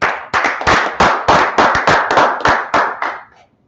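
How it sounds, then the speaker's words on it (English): A congregation at a Wednesday church class claps in unison, a run of about a dozen loud, sharp claps at an even pace that slows and fades out at the end. "Let's clap it up."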